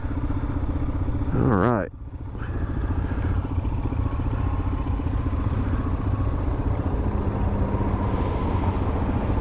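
A 2021 Royal Enfield Himalayan motorcycle ridden on a street, its engine a steady close drone with a brief rising-falling pitch sweep early on, and someone speaking briefly.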